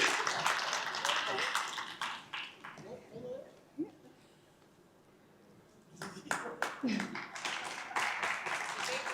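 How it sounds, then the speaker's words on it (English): An audience applauding panel participants at a community event, bursts of clapping at the start and again near the end with a quieter gap between, heard from within the room amid scattered voices. "Give them a round of applause, please."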